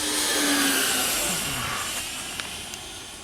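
A Taft Hobby Viper Jet V3 model jet with a 90mm electric ducted fan on 6S power flies past at full throttle, its loud rushing whine sliding down in pitch and gradually fading away.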